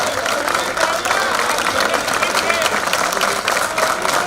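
An audience bursts into loud, sustained applause at a 2024 prize ceremony, a dense continuous wash of clapping that holds steady throughout.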